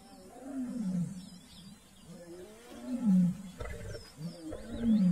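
A lone male lion on a riverbank gives repeated deep roaring calls, a series of grunting roars rising and fading across several seconds, carrying from moderate distance with no talk.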